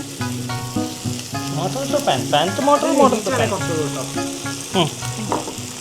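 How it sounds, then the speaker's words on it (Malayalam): Ground Sichuan peppercorns sizzle in a pan for homemade chili oil, a steady close frying hiss with stirring, while people talk over it. "ഇത് നമ്മൾ പൊടിച്ച് വെച്ച സേഷ്വാൻ പെപ്പർകോൺ വീണ്ടും തിരിച്ച് പാനിലേക്ക് എടുത്തിടുക"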